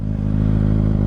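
A 2022 Kawasaki ZX6R 636 KRT motorcycle engine rumbles steadily at close range, a brief dip near the start followed by a sustained, even idle-to-rev drone with a strong low throb.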